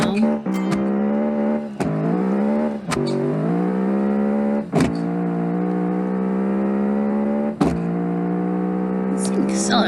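Simulated rear-engined V8 hatchback in Automation accelerating hard, a loud continuous engine note rising in pitch and dipping at several gear changes, with a player talking over it.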